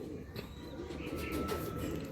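Oman and Saki Teddy pigeons coo softly in low, murmuring calls, fairly faint, over a steady background hum with little talk.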